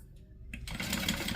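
A sewing machine starts partway through and stitches fabric along a seam allowance, a steady, close mechanical whirr following a quieter pause with no talking.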